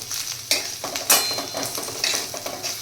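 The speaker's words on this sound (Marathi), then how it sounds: "हलकंसं आपण इथे तेलामध्ये फ्राय करून घेणार आहोत" Mixed vegetables for matar pulao fry lightly in oil, giving a steady sizzle broken by several scraping stirs of a spatula against the pan, close and fairly loud, with no voices.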